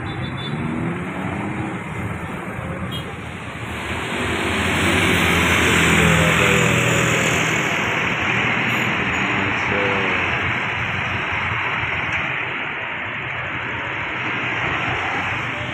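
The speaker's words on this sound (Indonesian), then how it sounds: "Arah ke Juanda ya, macet." Evening traffic jam on Ir. Soekarno MERR road: a steady wash of idling and creeping car and motorbike engines, swelling slightly in the middle, with a continuous mid-distance roar and no voices.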